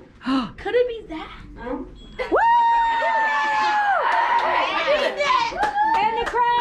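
Crowd cheering sound effect rises with a bright whistle-like tone and then a roaring, noisy swell of cheers, following a stretch of a child and an adult talking.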